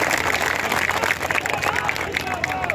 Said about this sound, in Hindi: जब ताली बजाइए तो जम के बजाइए